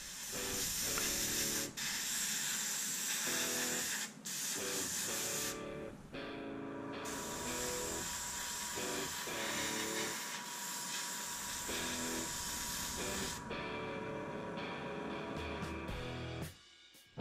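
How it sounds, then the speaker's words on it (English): Long hissing bursts of gloss varnish spray on a Tamiya 1/48 Spitfire Mk. 1 model kit, starting and stopping repeatedly at close range, with steady airy noise between pauses. "I spray on a coat of gloss varnish."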